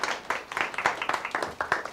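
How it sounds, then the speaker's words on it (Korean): Brief, moderately quiet round of clapping from a forum audience welcoming a keynote speaker, with distinct individual claps in a loose rhythm. "큰 박수 부탁드리겠습니다."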